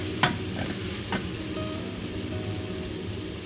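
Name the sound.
stir-frying Shanghai bok choy stems in hot oil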